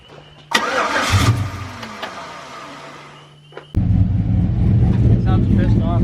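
A Cummins Big Cam 5.3 diesel engine cranks and catches loudly, stumbles and fades, then fires again into a steady, rough, heavy idle, with people talking nearby.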